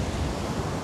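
Ocean surf at Bheemili beach near Vizag, a steady wash of breaking waves with wind noise across the whole short stretch, no voices over it.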